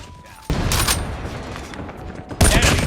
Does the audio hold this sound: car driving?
no